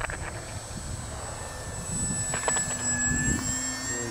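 An H-King Savage Bobber compact STOL RC airplane flies past with a steady whining electric motor drone, swelling slightly louder midway against light wind, with no talking.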